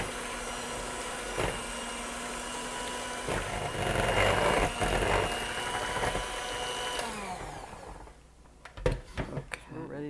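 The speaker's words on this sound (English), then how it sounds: "I'm going to use my hand mixer." A handheld kitchen mixer runs steadily for several seconds, a loud continuous motor whir that cuts off near the end, followed by a few knocks and clatters.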